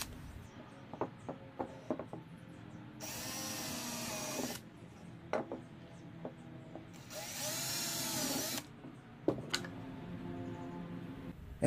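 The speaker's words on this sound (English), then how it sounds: "I'm going to drill 4 holes from the back to the front of the frame" A power drill bores four holes through the back of a hardwood DIY floating frame, two long steady high-pitched whirring bursts separated by quieter gaps with scattered clicks and taps of handling.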